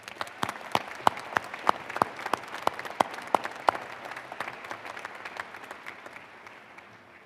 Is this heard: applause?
yes